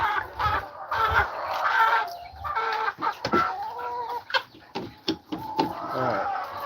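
Chickens cluck steadily on a farm, with repeated close, busy clucks and squawks and some sharper calls, filling the whole stretch without a pause.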